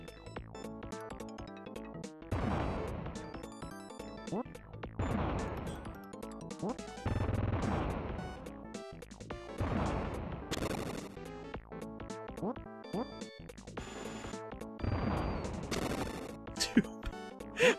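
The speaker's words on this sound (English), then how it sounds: "Bomb explosions are so crazy big." Bomb blasts from the Super Bomberman 2 video game burst repeatedly in quick succession, crunchy booming explosions over game music, with a voice talking now and then.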